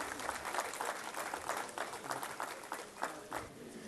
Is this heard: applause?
yes